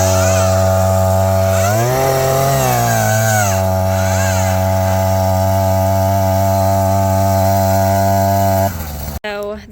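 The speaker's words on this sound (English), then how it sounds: "So that's just from one bit with the auger" Powered auger drilling planting holes for fruit trees, a loud, steady motor drone held close by, dipping and rising in pitch briefly as it bites into soil, then cutting off abruptly near the end.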